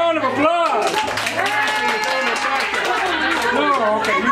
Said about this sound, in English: Give Natasha a big round of applause.